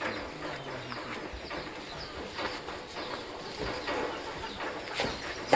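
Chickens kept on a farm clucking softly in the background, with scattered faint calls over a steady outdoor hiss.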